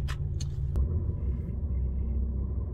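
A car creeps forward at low speed toward the exit of an autohof truck stop in Germany, its engine a steady close rumble throughout with a couple of brief higher knocks near the start.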